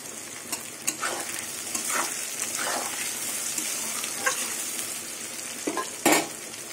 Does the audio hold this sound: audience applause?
no